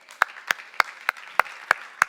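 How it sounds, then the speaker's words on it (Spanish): A church congregation at a Spanish-language worship service claps in slow unison, seven sharp, evenly spaced claps ringing out clearly about three per second with no voices over them. "Dale un aplauso al Señor."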